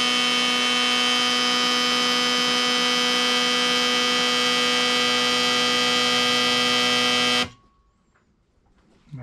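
An Autool CT150 fuel injector cleaning machine runs its high speed flow test on two injectors, giving a loud, steady electric hum with strong tonal buzzing that holds evenly for about seven seconds, then cuts off abruptly into near silence.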